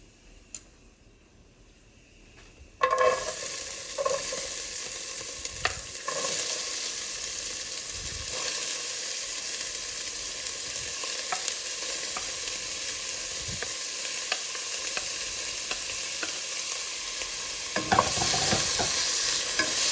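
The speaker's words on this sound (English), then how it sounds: "Now let's saute the onions for a while, and let's make it little tender." Onions sautéing with fennel seeds in a hot pan for a homemade chana masala, starting with a sudden loud sizzle that then holds as a steady, close frying hiss with occasional stirring scrapes.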